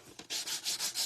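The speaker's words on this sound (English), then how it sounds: "We got to do a little sanding around my edges here." Jagged paper edges are sanded in a series of quick rubbing strokes, about five rasping passes in a rhythmic back-and-forth, close and fairly crisp, with no talking.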